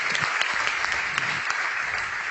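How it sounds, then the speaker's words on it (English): A live crowd at a Clash of Clans esports event cheers and claps in a dense, continuous roar, with a few sharper whoops and claps standing out. "I can scarcely hear myself while they're cheering."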